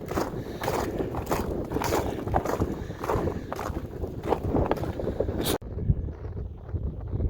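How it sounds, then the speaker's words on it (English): Steady wind roars across the ice of a frozen lake at a Minnesota state park in winter, buffeting the microphone loudly and continuously before suddenly dropping to a softer rumble near the end. "The wind was actually blowing across the ice."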